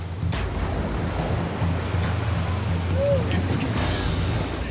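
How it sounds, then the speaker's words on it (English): Heavy ocean surf pounds steadily during a lifeguard rescue of swimmers caught in rip currents on a red flag day, a dense continuous roar with wind buffeting the microphone and a boat nearby. "The waves are pounding both lifeguards and their victims."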